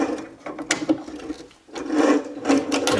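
A whirring, grinding drill press with a 1 3/8 inch Forstner bit bores into wood, loud and close, with a brief lull before the cutting noise picks back up.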